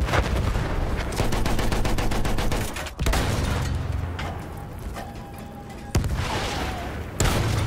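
Sustained gunfire from Battlefield 1, with dense bursts of rifle and machine-gun shots and sharp booms running throughout, heavy and continuous with brief gaps.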